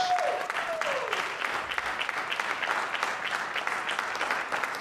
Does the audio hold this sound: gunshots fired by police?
no